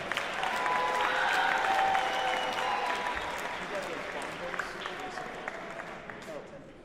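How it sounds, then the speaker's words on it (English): Sustained audience applause at a jazz festival concert, a dense wash of many hands clapping that slowly fades, with an announcer's voice heard over it. "Give this young man a round of applause."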